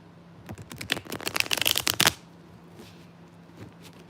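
A quick, crisp flutter of tarot cards being riffled and shuffled close up, lasting about two seconds before a quiet pause.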